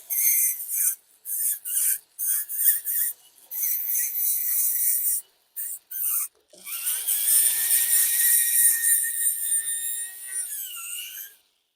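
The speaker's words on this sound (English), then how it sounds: "We may end up using some other burr tools." A rotary burr tool carves rustication into a Caminetto tobacco pipe, giving close, high whining grinding bursts that stop and start, then settle into a longer continuous grind that trails off.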